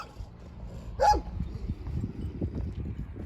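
Dogs snarl and scuffle close by, low rumbling throughout, with one short sharp yelp cutting through partway.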